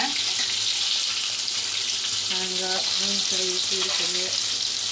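Masala fish frying in hot oil gives a loud, continuous close-up sizzle with dense crackling and spitting that never lets up.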